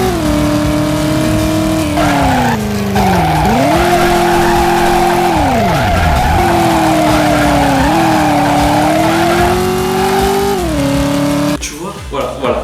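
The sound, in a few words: car driving and tires skidding in video game Driver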